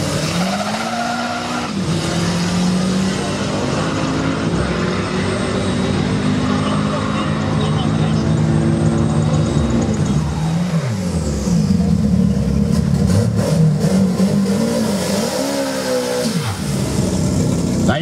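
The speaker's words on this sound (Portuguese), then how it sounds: "burnout de aquecimento para a final do mata-mata categoria dianteira Turbo C" A Fiat Uno Turbo front-wheel-drive race car in the Turbo C class does a warm-up burnout before a knockout drag racing final. The engine roars loud and steady with wavering pitch and screeching tyres for the whole stretch.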